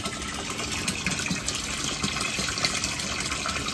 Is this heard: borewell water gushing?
yes